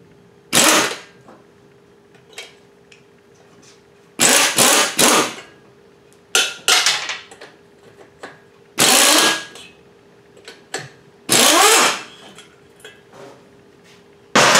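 A 9/16 socket wrench loosens cylinder head bolts on a Frazer B1-7 rototiller, with bursts of rapid ratcheting clicks, about six loud close spells separated by quiet pauses.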